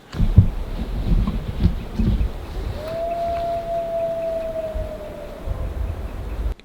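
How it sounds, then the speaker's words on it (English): A wolf howls outdoors in the wild on a North Island road trip, one long, steady, faint tone held for a few seconds over low wind and rumbling background noise. "That's a wolf. It's been howling for the last 60 seconds."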